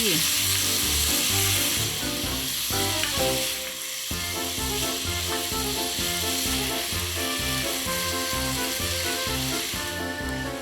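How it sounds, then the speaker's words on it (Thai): Pork stir-frying over high heat in a hot pan, a dense continuous sizzle with rhythmic scraping and stirring strokes throughout, loud and close. "เสร็จแล้วก็เร่งเป็นไฟแรงนะคะ ใส่หมูลงไป ผัดจนหมูเริ่มสุกดี"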